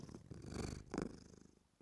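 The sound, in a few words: cat purring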